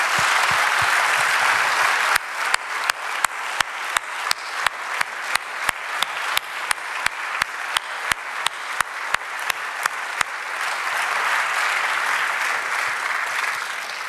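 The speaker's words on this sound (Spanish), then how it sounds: "Vamos a aplaudirle al Señor." A church congregation claps together, first in a steady, loud rhythmic beat of sharp unison claps, then breaking into sustained, dense applause filling the room.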